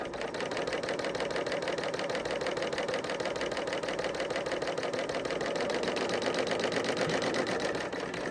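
Serger sewing machine running steadily as it stitches the edge of knit fabric being pulled, a continuous fast mechanical whir with even stitching rhythm, close and moderately loud throughout with no talking.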